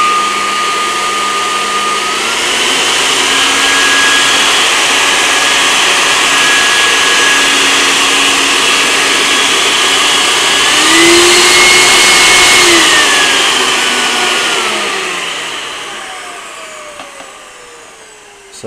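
A variable-speed blower on a wood gas setup runs continuously with a steady motor whine. Its pitch steps up and down as the speed is adjusted, then winds down near the end. No one talks.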